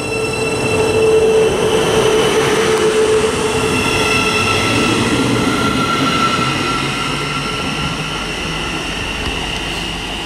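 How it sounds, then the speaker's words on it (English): A Thameslink passenger train from Brighton to Bedford runs through Harlington station on the Midland Main Line, a loud close rumble with squealing wheel tones and electric whine that gradually eases off. "now is 1306 Thameslink service to Bedford from Brighton"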